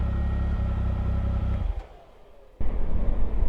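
A 2019 Triumph Speed Triple RS motorcycle engine rumbles loudly at low revs, drops off briefly for about a second, then comes back in abruptly with a strong, close, throaty drone.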